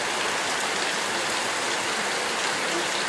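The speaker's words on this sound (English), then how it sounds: "Small little hailstorm." A small hailstorm falling outside during a College Station thunderstorm, a dense steady patter of ice pellets hitting surfaces, loud and unbroken, with no voices.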